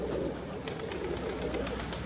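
Young pigeon in Boguchar cooing steadily in a low, continuous murmur throughout, fairly close, with no talk over it.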